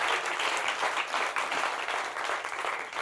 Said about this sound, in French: Applaudissements pour vous-même.